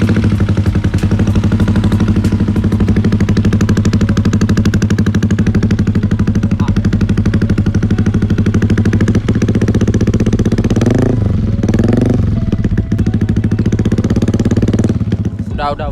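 Yamaha Aerox 165cc bore-up scooter engine running loud and close, a steady throbbing drone that surges in a couple of sharp revs near the end, with voices faintly underneath.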